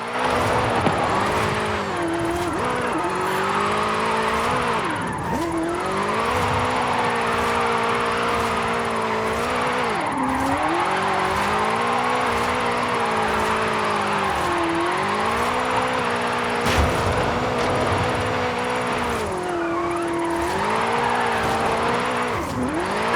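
A drifting car's engine in Forza Horizon 5's Mexico drift club, holding a steady high-revving drone that rises and dips in repeated swells as the car slides, loud and close with no talk.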